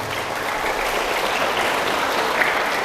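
Steady, dense applause from an auditorium audience at a Palestine solidarity event at SDIT Khairul Imam in Medan, greeting an introduced speaker, continuous and fairly loud with no talk over it.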